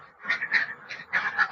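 Laying ducks in a dry-floored coop give a quick run of nasal quacks in two clustered bursts, close and moderately loud, with no talking.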